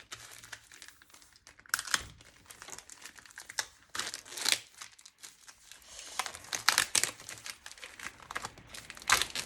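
Packaging from a Stampin' Up papercraft kit crinkles and tears as it is unwrapped and opened, with close, irregular rustling bursts alone and no talking.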